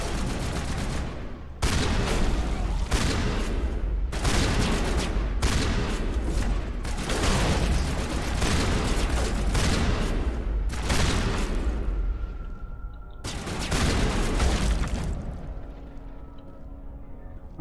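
Grenade blasts and gunfire in Mass Effect come as a string of loud, booming bursts separated by short gaps, with heavy rumbling volleys that end in a fading, ringing tail.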